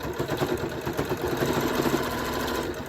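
A sewing machine stitches a pleat on a face mask, a close, steady whirring rattle of rapid needle strokes running for a few seconds without pause.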